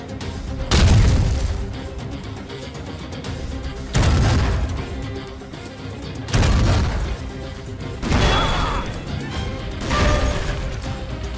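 Explosives set by paratroopers blast the turrets of the Ebene-Maille fortress in Minecraft, set on 10 May 1940: five loud, heavy booms land roughly every two seconds, each followed by a rumbling, crumbling decay.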